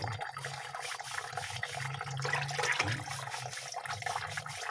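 Running water pours steadily from a kitchen tap as vegetables are washed by hand, a continuous close splashing flow with no talk.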